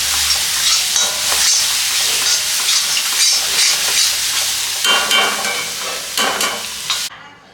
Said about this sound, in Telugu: ఈ ఉల్లిపాయ వాసన మొత్తం పచ్చి వాసన అల్లం వెల్లుల్లి పేస్ట్ పచ్చి వాసన మొత్తం పోయే వరకు ఇలా ఆయిల్లోనే ఫ్రై చేస్తారు